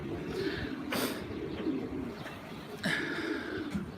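Several pigeons coo and murmur close by in a steady flock chorus, with a few brighter chirps and flutters rising above the continuous soft cooing.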